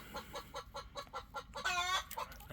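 Soft, rhythmic clucking from a hen nearby, a quick run of low notes followed by a brief higher squawk.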